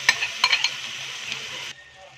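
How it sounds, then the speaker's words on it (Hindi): Yogurt (dahi) is stirred in a pan with a spoon, making soft wet scraping and sloshing sounds with a few sharp clinks near the start, close and fairly quiet, before stopping abruptly near the end. "दही को हम अच्छे से मिक्स करेंगे"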